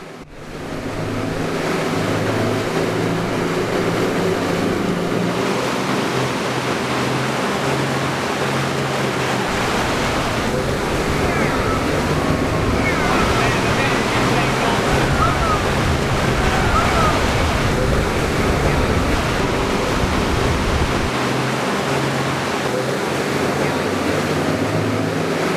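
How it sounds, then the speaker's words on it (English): Seawater surging through the narrow gap of the Horizontal Falls tidal rapids in the Kimberley, a loud, constant roaring rush of churning water with wind buffeting the microphone throughout. "They are created as seawater builds higher on one side of the gap than the other, causing a waterfall up to 5 metres high on a king tide."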